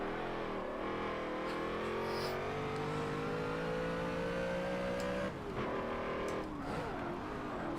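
An 800hp GMC Vandura van in the Forza 7 racing game revs loudly and continuously, its engine pitch climbing steadily before dropping and picking up again, alone without speech.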